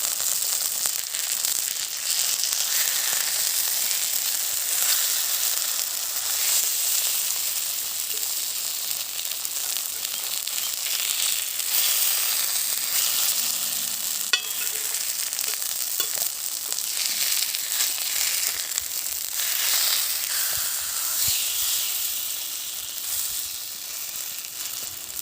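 Fish fries in sesame oil cooked the primitive way, a loud, dense crackling sizzle that runs steadily throughout with no voices over it.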